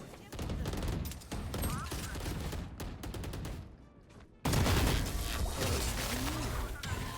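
Gunfire in the video game Valorant, with rapid bursts and sustained volleys of shots mixed with game effects and a sudden louder stretch near the end, while players talk.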